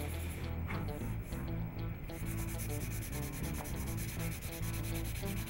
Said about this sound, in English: Next, I sand the wrist,